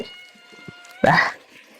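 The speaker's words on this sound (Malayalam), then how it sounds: "മീന്റെ മണം കേട്ടരേ പൂച്ച തുടങ്ങി ഇനി കരയാൻ വേണ്ടിട്ട്" A cat gives one short, rising meow up close near an outdoor clay hearth where fresh prawns are being cooked, heard alone after a quiet pause.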